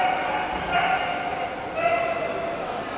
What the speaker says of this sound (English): Dog menace at Chok Togai Pawan.